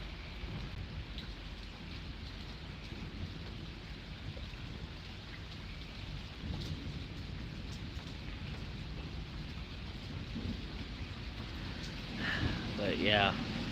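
Heavy rain pours continuously during a severe thunderstorm in Pittsburg, Kansas, with low thunder rumbling beneath it and a voice speaking briefly near the end.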